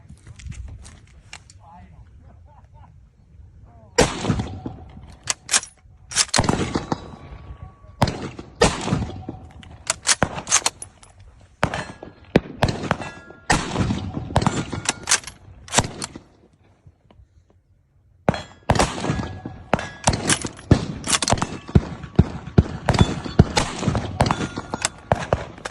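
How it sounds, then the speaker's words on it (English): An M38 Mosin carbine rifle fires several loud, sharp shots at an outdoor range, separated by bolt-action cycling and handling noises, with a short quiet gap partway through. "So now that we've seen what this rifle looks like up close, let's see how it operates and how it shoots."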